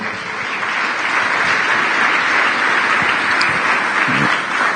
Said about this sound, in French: Ok, acclamons le Seigneur.